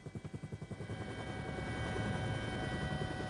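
A forest-police helicopter flies past in 1980s Rondônia. Its rotor thumps rapidly and rhythmically at first, then blurs into a steady, fairly faint engine drone with no voices.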